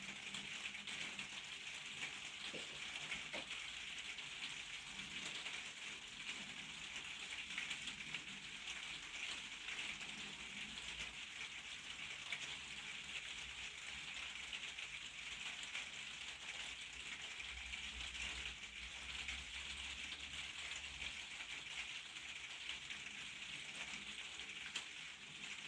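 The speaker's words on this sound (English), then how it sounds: "You can probably hear it's raining at the moment." Rain falling outside during a solar flowerpot battery box repair, a steady faint hiss of drops pattering on surfaces that continues evenly throughout without talk.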